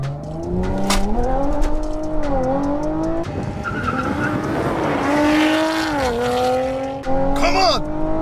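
Stage 2 Audi RS5 revving hard on a quarter mile run, engine tone climbing and dropping through gear shifts with tire noise, loud and close as a voice talks over it.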